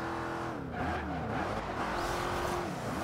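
Car engine in Forza Horizon 2 driving through oncoming traffic in the rain, a steady loud engine drone with shifting pitch sweeps and faint tire noise throughout, no talking.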